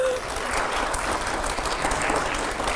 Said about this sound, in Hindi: जोरदार तालियां हो जरा